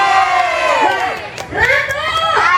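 A large crowd at a live concert at Padang Fair 2013 shouts and cheers loudly in unison, a dense wash of many voices rising and falling for the whole stretch.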